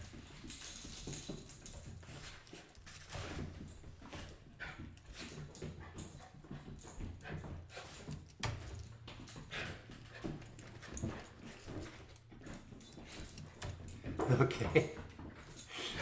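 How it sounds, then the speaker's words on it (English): A happy dog whimpers and pants softly and faintly against a noisy background, while a person says a brief word. "Very happy dog."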